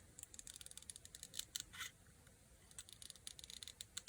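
Scissors snipping through a paper leaf in quick, small cuts, a quiet series of sharp crisp snips close by, with a few brief pauses and no voices.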